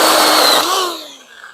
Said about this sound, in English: First, let's chop this little branch right here out the way.